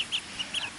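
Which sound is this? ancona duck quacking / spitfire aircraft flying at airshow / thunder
ancona duck quacking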